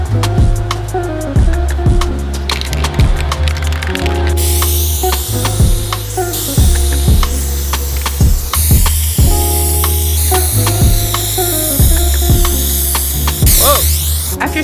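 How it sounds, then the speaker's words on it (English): High-strength spray adhesive is sprayed from a can onto a board and cork board during a DIY room makeover, giving repeated hissing bursts alongside clicks and rattles, with music running underneath throughout. "After spraying the adhesive on the board and the cork board"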